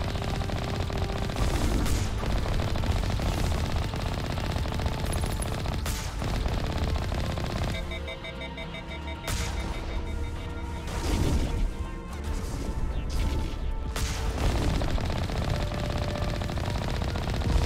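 Sustained automatic gunfire and crashing impacts fill a Mass Effect battle, loud rapid bursts with a short lull midway before the shooting resumes.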